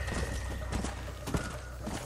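Horse hooves clip-clopping in the video game Red Dead Redemption, a steady close walking rhythm of hoofbeats over a low background rumble.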